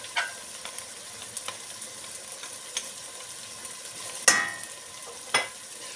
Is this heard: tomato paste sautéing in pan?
yes